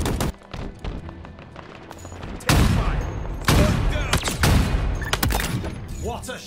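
Gunfire in Halo Infinite, loud close shots and heavy booming impacts in quick clusters, with a voice talking over parts of the action.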